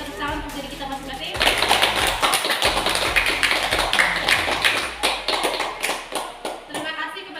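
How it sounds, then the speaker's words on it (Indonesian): A classroom group gives a burst of applause at the close of a practical-exam debate round, with clapping and tapping sounds and people talking throughout. "Kita beri tepuk tangan untuk diri kita masing-masing"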